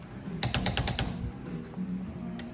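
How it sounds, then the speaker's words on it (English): A torque wrench tightens the differential bearing cap bolts on a Honda S2000 during a rebuild: a quick run of about six sharp ratcheting clicks, then quieter scattered taps and handling noises close by. "making sure the torque is correct on all these bearing cap bolts"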